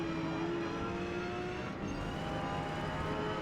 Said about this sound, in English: There's a Mustang come flying around my left side.